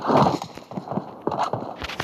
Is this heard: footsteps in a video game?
yes